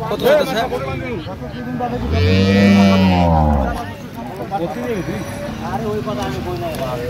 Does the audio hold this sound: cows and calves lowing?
yes